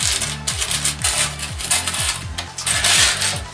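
Old Soviet-era coins are handled and dropped from a scrap-metal dig, giving a steady series of small metallic clinks and rattles at close range, with no talk.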